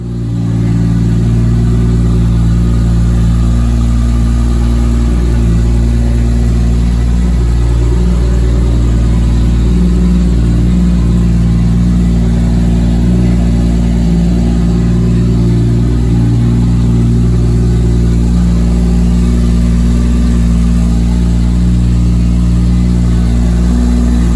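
A gray right-hand-drive Toyota Supra Mark IV runs close and loud with a steady, deep idle that holds at an even, rumbling pitch throughout, with only slight rises in revs and no voices.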